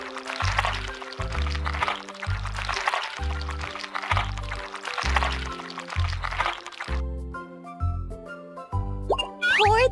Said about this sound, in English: Pour the mixture into the plate